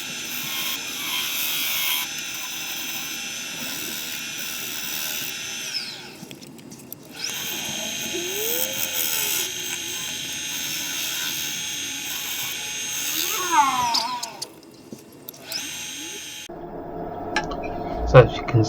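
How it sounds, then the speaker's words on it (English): A wood lathe spins a cherry serving bowl at about 500 RPM with a steady low whir, while a gouge cuts the rim in scraping passes that come and go, with short pauses and faint clicks near the end. "I've turned the lathe speed up again now"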